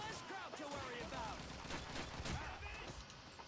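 Gunfire in Call of Duty 2, a WWII shooter, sounds as steady battlefield shooting with rifle and machine-gun bursts under distant chatter and game ambience, neither loud nor sparse, with voices mixed through it.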